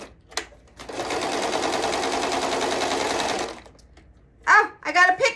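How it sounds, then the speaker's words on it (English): A sewing machine runs a basic straight stitch through a pillow made from a cheap bag, a close, steady whirring hum for nearly three seconds that then stops, followed by a person talking. "right now we're stitching it with the sewing machine"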